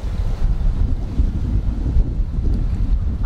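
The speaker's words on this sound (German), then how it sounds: "da haut es jetzt ganz schön Fallböen runter" Strong downdraft wind gusts buffet a sailing yacht near Europa Point, Gibraltar, a loud continuous roaring rush of wind on the microphone with low surging rumble and boat and water noise, no voices.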